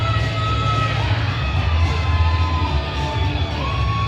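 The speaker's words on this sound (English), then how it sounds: "listen to that crowd. Yeah. Big excitement in the crowd for this next fight." Crowd at a boxing undercard event, a steady roar of cheering and whooping with scattered shouts, loud and continuous throughout.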